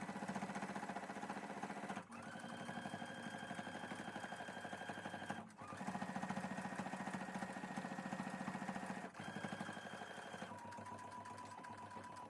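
Sewing machine running a straight stitch across a fabric bag, a steady whirring hum in three long runs broken by brief pauses, fairly quiet and without talk.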